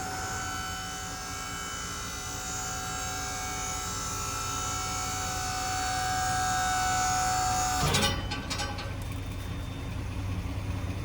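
The hydraulic bed of a 2011 Ford F350 2WD dump truck with fold-down sides rises over a steady engine and pump whine that builds in strength, then shifts with a clunk and rattle as the load slides out.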